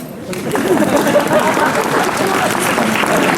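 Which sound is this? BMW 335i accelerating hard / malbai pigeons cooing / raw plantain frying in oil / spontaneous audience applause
spontaneous audience applause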